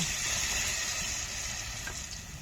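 Batter-coated bread rolls stuffed with filling fry in hot oil, giving a steady, close hiss of sizzling that carries on without a break and fades slightly toward the end.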